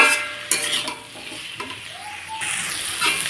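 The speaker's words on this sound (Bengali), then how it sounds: "তাকে ভালোভাবে নাড়াচাড়া করে নিচ্ছি হলুদ দিয়ে" Mixed vegetable chorchori with turmeric being stirred in a pan, with a soft scraping of a spoon over a faint sizzle and a few sharper clinks, all close and fairly quiet.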